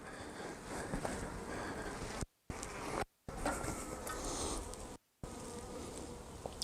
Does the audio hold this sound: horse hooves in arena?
no